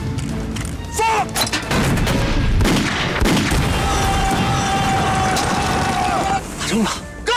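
Artillery gun fires a delayed-fuse shell in a loud battlefield scene, with a sharp blast and a rumbling boom followed by sustained roar and noise as voices shout over it.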